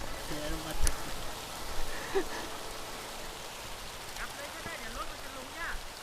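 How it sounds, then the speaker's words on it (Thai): Heavy downpour of big drops over a hillside durian orchard, a steady wash of rain with scattered louder patters and some faint background sounds. "ตกฝนเม็ดใหญ่มาก"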